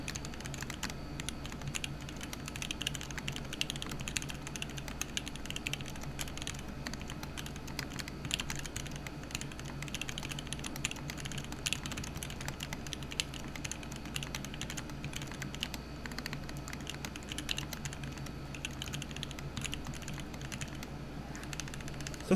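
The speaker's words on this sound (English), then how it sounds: "I'll show you guys multiple angles after I'm done typing." Fast, steady typing on an Iron 165 SE custom mechanical keyboard build produces a consistent run of soft clacking keystrokes, fairly quiet and uninterrupted.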